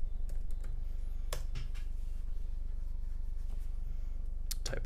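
Someone types a password on a computer keyboard while setting up Wi-Fi on Arch Linux. Scattered, quick key clicks come up close over a steady low hum, with a short burst at the start and again near the end.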